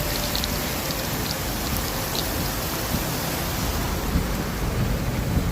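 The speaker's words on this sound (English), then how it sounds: "There are windstorms, thunderstorms that have taken hold of the city." Steady heavy rain pours down in a windstorm with a low rumble of thunder rolling underneath, a dense, continuous wash of sound, in Taif, Saudi Arabia.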